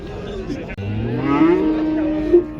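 A bull at a livestock market in Kyzylorda gives one long, loud, close moo that rises and wavers before trailing off.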